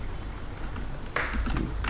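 Typing on a computer keyboard while writing a Python dictionary program, soft steady key taps at first, then a brighter cluster of louder clicks near the end.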